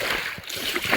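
Water splashed by hand at a fishing spot on open water: one short, soft splash, close by and fairly quiet.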